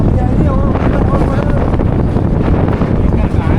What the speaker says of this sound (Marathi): वादळ भरपूर झालं आहे जोराने